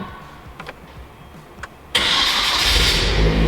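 A Hyundai Genesis fitted with a manual swap and used 240sx parts cranks and fires up about halfway through. A few quiet clicks come first, then a sudden loud engine roar settles into a steady, close idle.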